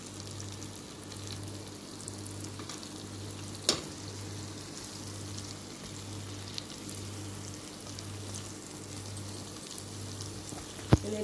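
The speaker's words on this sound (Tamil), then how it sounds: "எண்ணெயில் போட்டு நல்லா வணக்கணும்." Mutton frying in oil with turmeric, mutton masala and garam masala, a steady soft sizzle crackling throughout, with a low constant hum beneath and a couple of sharp clinks near the start and end.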